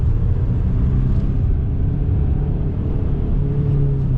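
A car drifting on ice gives off a steady low engine rumble that holds fairly even throughout, loud and close, with no voices over it.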